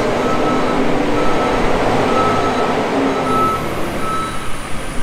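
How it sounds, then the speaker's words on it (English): A forklift drives nearby while mucking out, its engine droning steadily with the high reversing beeps repeating under a broad, loud rumble, with no voices. "As you can probably hear from the forklift"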